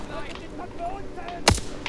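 A single sharp semi-automatic rifle shot cracks out once in a video game over quiet background ambience, with no other shots around it.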